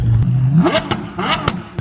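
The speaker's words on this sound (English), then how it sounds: "Don't stand behind him when he revs" The engine of a street-legal Apollo IE sports car revs up sharply, its pitch rising through a burst of throttle, then crackles and pops as it settles back.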